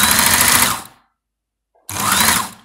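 A Brother sewing machine runs slowly in two close, loud bursts of whirring stitching separated by about a second of silence.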